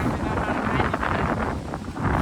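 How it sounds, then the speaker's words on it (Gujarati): Strong storm wind in a village courtyard, a steady roaring gust buffeting the microphone throughout without pause. "પવન આવે છે ને બધું ઉડાડે છે"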